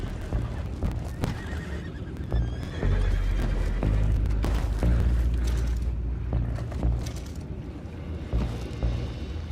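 Horses neigh and whinny while hooves clop in the video game Red Dead Redemption 2, mixed with creaking and mechanical clatter in a busy, fairly loud scene.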